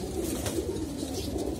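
Pigeons coo in a loft with low, throaty rolling calls, near and steady over a dense bed of ambient noise, with no clear talk.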